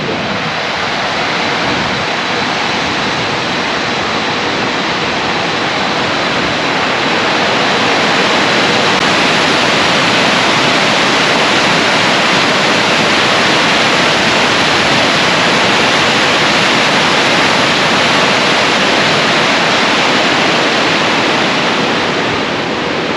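Water rushes steadily over the dam spillway at Lackawanna State Park, a loud, unbroken roar of falling water that stays even throughout with no other sounds.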